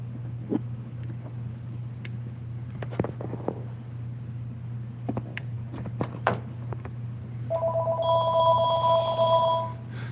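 A telephone rings inside a bicycle shop, a two-tone electronic trill starting late and lasting a couple of seconds over a steady low hum, with scattered clicks and knocks of shop activity before it.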